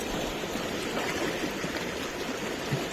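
A village river stream flows in a steady, unbroken rush of water that stays even and fairly close throughout, with no voices over it.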